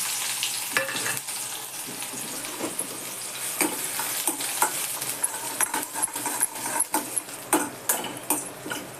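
Onion fries in a pan for sandge bhaji, a continuous hiss of sizzling oil punctuated by a run of sharp spatula taps and scrapes that grow more frequent toward the end.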